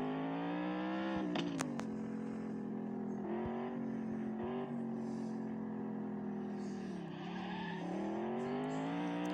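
A sports car's engine drones steadily in a driving video game, rising and falling with the throttle, with short bursts of tire squeal and a couple of sharp clicks.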